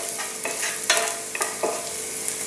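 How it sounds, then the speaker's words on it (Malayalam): Chopped garlic sautéing in a pan, a steady light sizzle broken by a few scraping stirs of a spatula, close and alone with no talk. "വെളുത്തുള്ളി ജസ്റ്റ് ഒന്ന് വഴറ്റിയെടുത്താൽ മതി."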